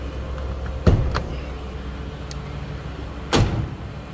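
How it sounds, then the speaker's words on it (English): Two sharp mechanical clunks, about two and a half seconds apart, come from a 1985 Cadillac Fleetwood Brougham as its hood release is pulled, with a faint click between them over a low background hum. "Hood release"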